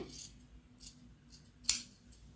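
Scissors snip through fabric during sleeve stitching work, a few soft high crisp cuts with one sharper, louder snip near the end, quiet and close with no talking.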